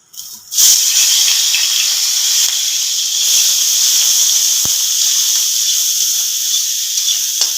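Onion hits hot oil tempered with spices for a stuffed pointed gourd curry, bursting into a loud, close, steady hiss that holds for several seconds after a sharp start.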